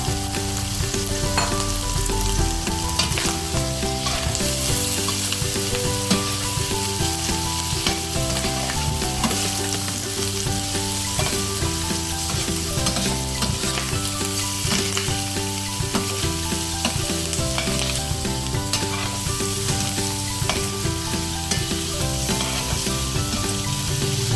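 Onion, tomato and pork sauté together in a pan, giving a constant loud sizzle throughout, though a steady layer of background music is also present and partly masks it.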